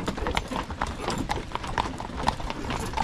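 Horses' hooves clip-clop in a brisk, regular rhythm on a hard surface, close and fairly clear, with low voices murmuring in the background.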